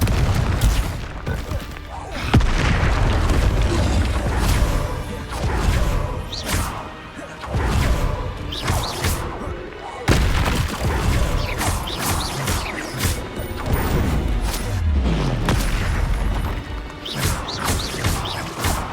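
Spell combat in Hogwarts Legacy, with repeated explosive blasts, crashes and impacts bursting in quick irregular succession over a dense, loud battle din, and a voice calls out spell incantations throughout.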